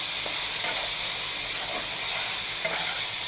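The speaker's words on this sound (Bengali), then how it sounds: "আদা রসুন বাটাটা পেঁয়াজের সঙ্গে একটু মিলাই নেব" Ginger-garlic paste frying with onions in a pan, a steady close sizzle with faint stirring scrapes throughout, no voices.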